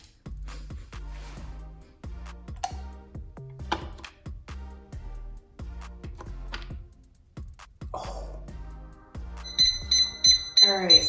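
Electronic beeps from a home face mask machine making a DIY orange ginger jelly mask with collagen peptide, a regular series of short tones sounding in quick succession, then a brighter, higher run of beeps near the end, close and fairly clear.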